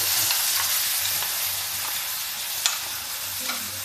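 Soft steady sizzling of onions and spinach frying in a pan, with occasional scraping stirs of a spoon, close and fairly quiet.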